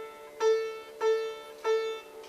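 Three plucked sitar notes on the same pitch without sympathetic string resonance, each with a sharp attack and short decay, sounding flat and dry.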